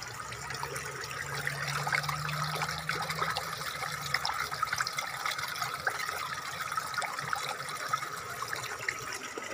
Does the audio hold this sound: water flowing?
yes